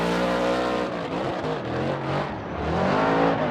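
A Ford Performance Mustang RTR drift car on Nitto tires is thrown into a slide during Formula Drift qualifying at Irwindale, its engine revving and warbling loudly, rising and falling as it passes.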